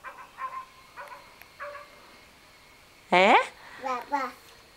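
An adult voice asks something softly, then a child gives a loud, rising yelp imitating a dog's bark, followed by two shorter babbled sounds.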